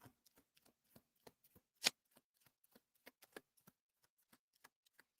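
A cosmic energy card deck being shuffled, giving quiet, scattered flicks and riffles with one sharper snap partway through, faint and close in a hushed room.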